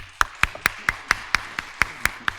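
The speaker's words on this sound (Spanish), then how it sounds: "Muchas gracias, doctora, y un aplauso, por favor." Single steady hand claps, about nine sharp evenly spaced slaps in a slow rhythm, fairly close and quiet, for a doctor who has just spoken at a scientific lecture on SARS-CoV-2 and the immune response.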